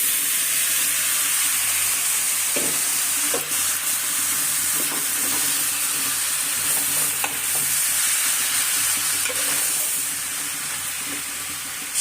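Spinach goes into a frying pan already hot with turmeric and chili powder for a Bengali spinach and shing fish dish, and a steady, close sizzle with hissing steam runs throughout, broken by scraping stirs.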